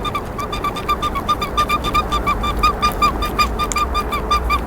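A Hyundai Grandeur HG 2.4 engine runs with a faulty belt, giving a rapid, steady ticking chirp over a constant engine hum, recorded close to the engine bay.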